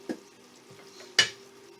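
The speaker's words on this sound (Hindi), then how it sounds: "अब हम इसको डिश आउट करते हैं।" Bhindi masala being dished out of a cooking pan: two sharp utensil scrapes against the pan, a short one at first and a stronger one later, with faint clinks between, close and otherwise quiet.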